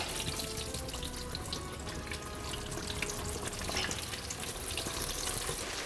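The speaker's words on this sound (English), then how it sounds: "I want to put the fish in my oil." Fish fries in hot oil in an 18th-century style hearth kitchen, giving a continuous, dense sizzle with fine crackling. The sound stays steady and fairly close, with no voices over it.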